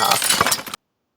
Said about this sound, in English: crashed spectacularly into a tall mirror, shattering glass everywhere